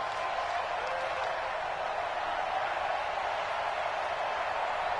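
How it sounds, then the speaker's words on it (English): Stadium crowd in the Madden 20 football game, a steady, dense roar of cheering and noise that holds evenly throughout, with a voice heard at times. "Let's calm the crowd."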